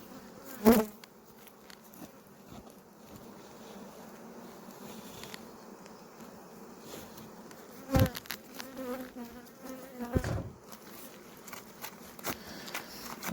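Bees buzzing steadily around a hive, a close, continuous hum with a few louder bumps and knocks now and then.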